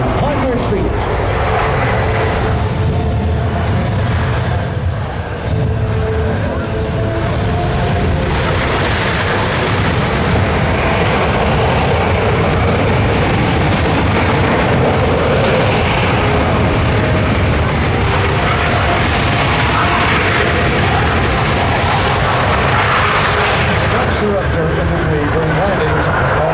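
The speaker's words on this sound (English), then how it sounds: "Now the crew will demonstrate a very short landing distance with only" A Boeing C-17 transport jet makes a short-field landing at an air force base air show, a steady loud roar of jet engines with rumbling thrust throughout and a voice talking over it.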